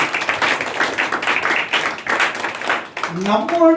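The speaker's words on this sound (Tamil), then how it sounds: "கரங்களை தட்டுங்களேன்." A church congregation claps their hands in rhythm, loud and continuous, while a preacher's voice carries over the clapping and a brief musical tone rises near the end.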